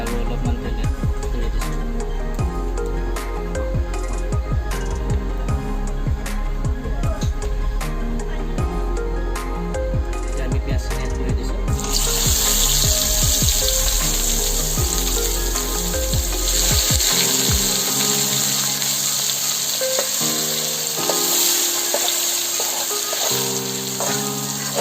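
Oil sizzling and frying in a pan while Kashmiri dum aloo is cooked in an Assamese kitchen. A dense, steady hiss runs throughout, with clinks and stirring, and it brightens partway through as more oil goes in.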